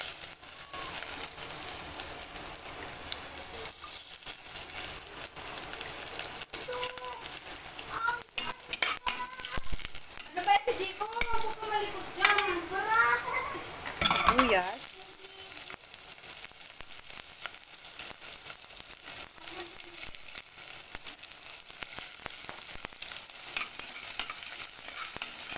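Garlic sautéing in cooking oil in a pan, a steady, moderately loud sizzle running throughout, with stirring noises and some clatter in the middle, while a voice talks briefly.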